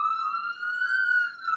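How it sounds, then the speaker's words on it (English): Emergency vehicle siren wailing along a Harlem street in summer, a steady rising and falling tone heard alone and fairly loud for the whole stretch. "we're gonna let these sirens go by"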